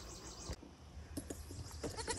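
A goat on a New England homestead bleats in a few short, close calls, with light rustling and outdoor background between them.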